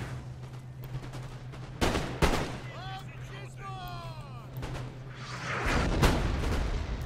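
Musket volleys from massed infantry cutting down grenadier units in a Napoleon Total War battle, heard as sharp broadband bursts against a steady low game hum, with a louder, denser crackle of fire near the end.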